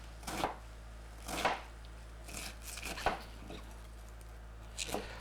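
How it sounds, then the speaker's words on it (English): A knife chops through savoy cabbage on a board, cutting it into strips: four or five separate crisp strokes spaced about a second apart, close and clear over a low steady hum. "And cut the cabbage in nice strips."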